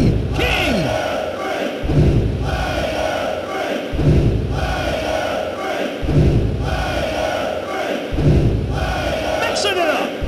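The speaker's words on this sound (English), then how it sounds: "This crowd is crazy!" Arena crowd roaring and chanting in the PS1 wrestling game WWF Attitude, a loud steady wall of cheering that swells in repeating surges every couple of seconds, with thuds and a commentator's voice over it.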